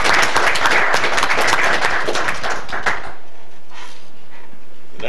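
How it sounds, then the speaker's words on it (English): Applause from the audience at a Palatka city commission meeting, a loud burst of many hands clapping for about three seconds before cutting off abruptly into quiet room tone. "Let's give him another round of applause."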